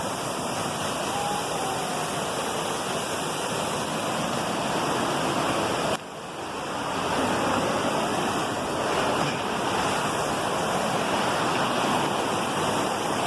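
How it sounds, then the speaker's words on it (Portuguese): A waterfall with strong, rushing water roars in a constant, loud, broadband wash up close, with only a brief dip midway. "não tem como atravessar lá pro outro lado, porque é muito forte a água, aqui é a queda da água"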